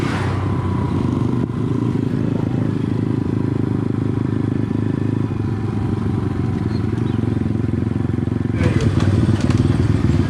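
A motorcycle engine idles and runs nearby at a roadside fuel stop in Suriname, a constant loud rumble with a few clatters and thumps, while voices come and go beneath it.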